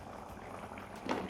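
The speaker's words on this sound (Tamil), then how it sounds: "5 to 7 மினிட்ஸ் கொதிக்கட்டும்." Cluster beans simmer in water in a cooking pot, giving a steady, soft bubbling and hissing boil, fairly faint, with a slightly stronger burble near the end.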